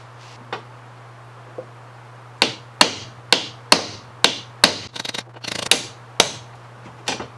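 A hammer knocks a rivet out of a 1930s sled in a steady series of sharp metallic taps, a quick flurry in the middle, with a low constant hum underneath.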